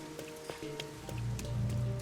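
Red rain falling in the detective game Rain Code, a steady soft patter of drops with a low droning hum underneath, swelling slightly louder toward the end.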